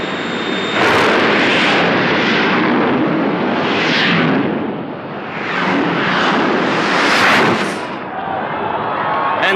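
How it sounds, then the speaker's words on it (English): Two jet dragster cars race down a drag strip at close to 300 mph, their jet engines producing a huge, roaring, surging blast that swells and fades in waves, loud and close throughout. "Pretty close to 300 miles an hour for those two jet cars."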